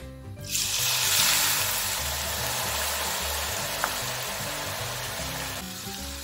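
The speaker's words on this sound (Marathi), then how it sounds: "आता आपण आलूचा किस तळून घेऊया।" Shredded potato deep-frying in hot oil for aloo chivda, a loud, dense bubbling sizzle that starts abruptly and holds steady, with a single brief clink partway through.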